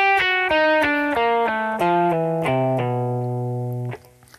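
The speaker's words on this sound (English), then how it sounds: "Pull-offs." Electric guitar pull-offs, a descending run of connected notes at a quick, even pace that ends on a long ringing low note, played close with no talking.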